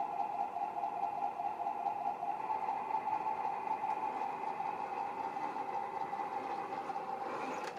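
An HG P602 RC Cougar 6x6 MRAP model truck with an ISDT ESC70 speed controller runs its motor in low gear, giving a steady, close electric whine that holds evenly and alone throughout.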